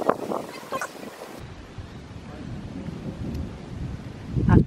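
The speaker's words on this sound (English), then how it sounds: "I'm just going to sit here, listen to the thunderstorm. Can you hear it in the background popping off?" Thunder from a thunderstorm in Kenya's Masai Mara rumbles low and distant beneath steady outdoor ambience, swelling in a deeper roll near the end.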